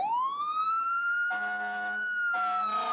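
Wailing ambulance siren from a 1986 movie, a steady rising-then-level tone repeating loudly and close throughout, with brief bursts of other noise layered over it twice.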